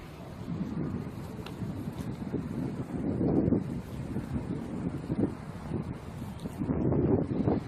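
Wind gusting outdoors on a cloudy, rainy-looking day, buffeting the microphone in rough, low rumbling surges that rise and fall across the whole stretch.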